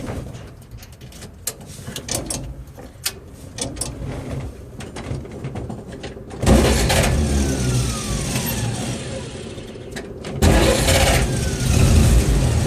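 A 1936 Dodge LC pickup engine is cranked with the foot starter and catches, then runs at a steady idle. There are louder bursts around the start and again later, heard close by.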